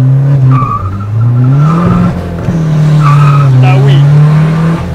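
Tires squeal loudly in long sustained wails as a Stage 2+ tuned Volkswagen Golf 4 TDI spins its wheels, with engine noise underneath, up close.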